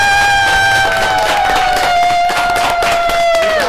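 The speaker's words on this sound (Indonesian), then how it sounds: "berikan tepuk tangan yang meriah untuk" A podcast audience gives a round of applause, with a brief burst of clapping under a loud, sustained tone that slowly falls in pitch.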